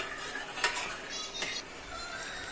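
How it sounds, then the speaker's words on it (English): A spoon stirring mutton marag in a pot of simmering liquid, soft scraping strokes and a couple of light metallic clinks over a low bubbling background. "After adding water, mix it well and cook it on a low flame for 2 minutes."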